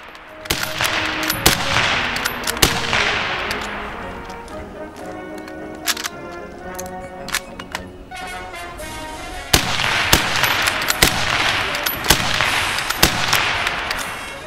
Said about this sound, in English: So, 10 rounds with the Mauser.